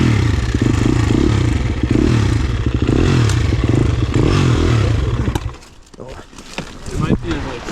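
A four-stroke dirt bike engine runs loud and close for about five seconds with a pulsing, throbbing rumble, then drops away to quieter clatter and scraping while a person speaks.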